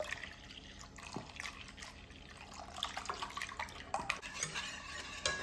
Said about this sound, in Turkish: Şimdi artık sütümü tamamını ekleyeceğim.